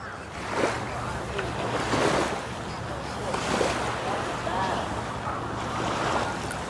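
Surf washing into a small bay on Wongamat Beach in Pattaya, Thailand, a steady wash of waves that swells and recedes in slow surges, with wind rumble over the microphone.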